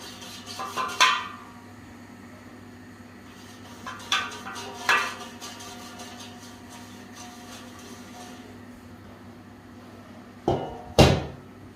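Rolled vegetable-filled dough being set into a greased baking dish, giving a few scattered clinks and knocks of cookware, with louder clatters near the start and end over quiet room tone; nobody speaks.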